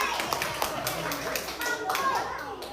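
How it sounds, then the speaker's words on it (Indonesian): Audience clapping at an education talk show, a short burst of hand claps from a room with speech and chatter mixed in. "Berikan tepuk tangan dulu dong, biar semangat."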